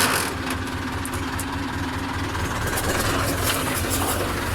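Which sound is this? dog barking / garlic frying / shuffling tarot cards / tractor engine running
tractor engine running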